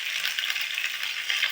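Green chillies frying in oil as a tempering for poha, a steady, close hiss of bubbling oil that holds at an even level for the whole moment, with no voices over it.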